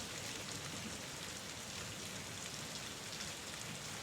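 Steady rain falls continuously on a surface, a soft even hiss with dense patter of drops throughout, no other sounds standing out.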